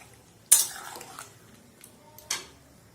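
A spoon clanks against a metal pot while chicken for biryani is stirred and slow-fried, two sharp close scrapes and knocks over a quiet low background.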